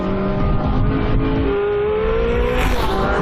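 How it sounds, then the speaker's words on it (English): Porsche 918 Spyder hybrid supercar with its race-bred V8 engine in Sport mode, loud and close, a steady high engine note that rises smoothly in pitch as it accelerates. "Now the race-bred V8 supplies the majority of the power."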